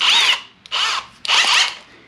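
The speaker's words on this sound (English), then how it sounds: "Think it'll drill all the way down to the hilt here?" A Kobalt 24V brushless cordless drill bores a 7/8-inch spade bit in three loud, whining bursts, each cutting out briefly before the next, with a harsh grinding edge as the bit bites.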